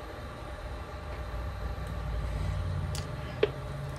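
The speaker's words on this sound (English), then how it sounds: "And that noise you hear is the fans." Cooling fans in a modified Mac Plus computer with the case on run as a quiet, steady whirring hiss, with a faint tap or click near the end.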